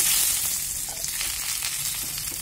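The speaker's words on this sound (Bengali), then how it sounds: "শিমগুলোকেও কিন্তু আমরা খুব ভালো করে নাড়িয়ে চাড়িয়ে ভাজতে থাকবো" Beans and potatoes sizzle steadily in hot oil while being fried and stirred, a continuous close crackle with faint scraping, no voices.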